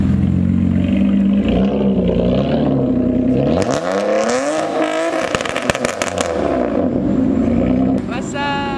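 A stock Nissan Altima's engine revs up and down nearby, rising to a loud roar in the middle before settling back, with people talking over it.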